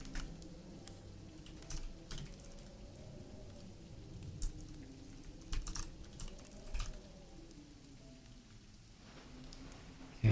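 Steady light clicking of keyboard typing runs throughout over a soft rain-like hiss and a low wavering hum, with no voices.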